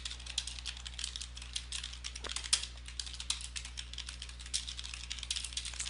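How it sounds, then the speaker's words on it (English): Fingers type a message on a computer keyboard, with quick, uneven, close key clicks running steadily throughout and a couple of louder taps standing out, over a faint constant hum. "Let's see, I'm going to type a message."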